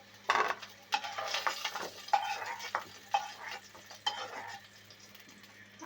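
Fried potatoes lifted out of a pan of hot oil while making a cabbage ghonto with rohu fish head: metallic clinks and scrapes of a utensil against the pan come at irregular intervals, with light sizzling beneath, close and fairly quiet.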